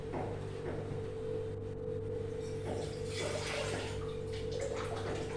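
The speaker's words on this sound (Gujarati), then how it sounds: "અને ચપટીક પાણી નાખું છું." A small amount of water is poured into moong cooking with tomato puree on a gas stove, giving a soft, steady watery pour under a constant low hum from the stove and kitchen.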